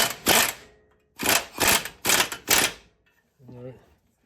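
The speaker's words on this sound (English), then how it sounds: "got the air gun on very low torque" A pneumatic air impact gun set to very low torque snugs the upper ball joint bolts on a 2010 Infiniti QX56, giving four loud, close bursts of rattling hammering, with a short pause after the first, then a brief low hum at the end.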